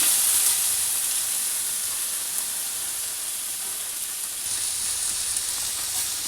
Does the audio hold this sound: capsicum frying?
yes